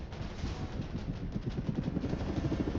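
Helicopter engine in the Roblox game War Tycoon, a steady, dense rotor and engine drone with rapid chopping pulses, loud and continuous with no talking.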